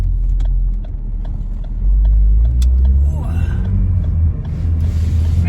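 Steady low engine rumble and road noise fill a car's cabin while it drives, loud and continuous, with someone talking over it.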